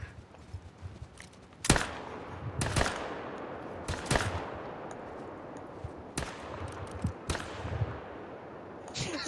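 Gunshots fired at a buffalo while hunting in the video game Call of the Wild: several sharp, loud single reports spaced a second or two apart over a rustling, wind-like background.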